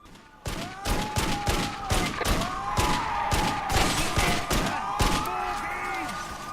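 Rapid gunfire aimed at pedestrians in the driving game Wheelman, a dense run of sharp shots lasting several seconds with tonal cries or voices mixed in.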